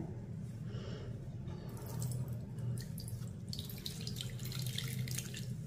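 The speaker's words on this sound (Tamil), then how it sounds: "நல்லா டைட்டாக புழிஞ்சு ஒன்று விடாமல் அதில் உள்ள சாரை எடுத்துடணும்" Herbal juice for a grey-hair oil is squeezed through a white cloth, with a steady trickle and drip of liquid running continuously close by, no voices.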